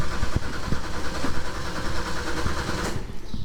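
A crew cab truck engine with a blown exhaust donut gasket runs loud and rough close by, with a raspy, chattering exhaust puffing in a rapid, uneven rhythm.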